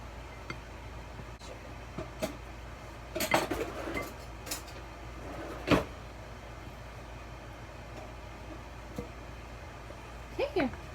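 Spoon clinking against a bowl while ingredients are scooped for lightly sweetened gluten-free chocolate peanut butter cookies, a few scattered metallic taps and scrapes at close range in a quiet room.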